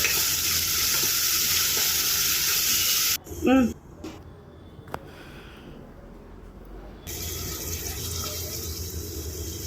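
Onions, chillies and tomatoes frying in oil in a pressure cooker for goat head curry, a loud steady sizzle that cuts out briefly for a few seconds with some stirring clatter, then resumes.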